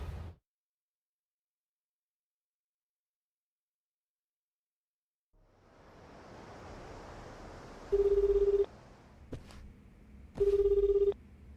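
A phone call in Like A Dragon: Infinite Wealth that fails to connect: after silence a hiss rises, then two loud steady electronic tones a couple of seconds apart, with a click between them.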